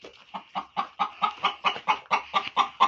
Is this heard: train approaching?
no